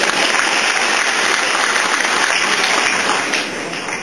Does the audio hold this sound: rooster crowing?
no